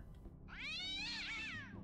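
A cat in the gladiator video game Story of a Gladiator gives a single clear, drawn-out meow, fairly quiet and alone.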